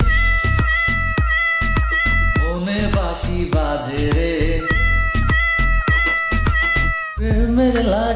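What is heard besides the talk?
cat meowing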